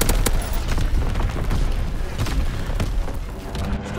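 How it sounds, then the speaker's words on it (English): A continuous barrage of enemy artillery shelling from Call of Duty: WWII rumbles loud and close, with heavy overlapping booms and blasts forming an unbroken roar. "Incoming enemy artillery!"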